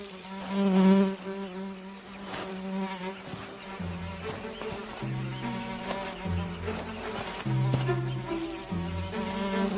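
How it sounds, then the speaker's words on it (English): A tsetse fly buzzing around a young lion in the hot African bush: a close, wavering insect drone with shifting pitch, louder at moments as the fly passes near, with no talk over it. "The Misfit is bothered by a tsetse fly."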